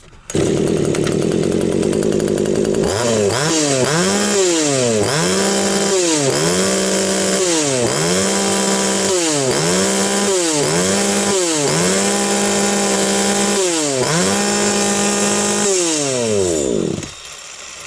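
A Vitals 2510s petrol chainsaw engine revs repeatedly, rising and falling in about a dozen loud, rhythmic bursts, close by, then cuts off.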